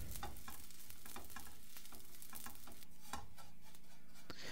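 Shredded kadaif pastry fried in butter and stirred, a dense continuous sizzle broken by quick rhythmic scraping and clicking strokes of the spoon, close up with no voices.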